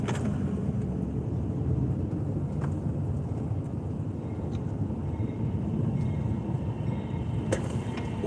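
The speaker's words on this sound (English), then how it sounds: "I hear a train going over our heads." A train rumbles overhead at night, heard from inside a vehicle driving through downtown Atlanta as a steady, fairly loud low roar blended with road noise, with no one talking.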